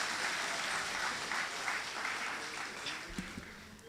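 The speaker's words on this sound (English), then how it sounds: "Give a round of applause again for Senator Nolan Cox." Audience applause at a party special meeting, a dense burst of many hands clapping that fades gradually over a few seconds, moderately distant, with a couple of louder knocks near the end.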